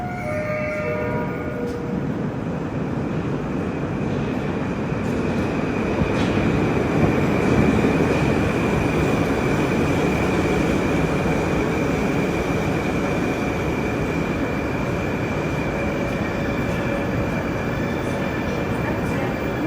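A Moscow metro train rides the Nekrasovskaya line with a steady, loud rumble of wheels and carriage, faint clickety-clack and occasional high squeals over a constant hum.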